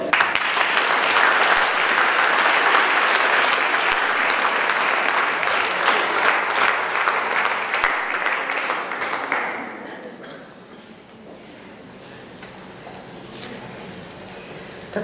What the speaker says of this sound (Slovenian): Tudi njima glasno zaploskajte.